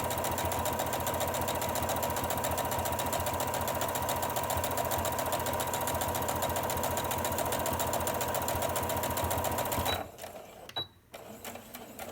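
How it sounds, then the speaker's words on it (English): A sewing machine stitches along the edge of a fabric face mask in a fast, steady mechanical whir for about ten seconds, loud and close, then stops, leaving quiet handling noises. "I'm sewing just right along this edge."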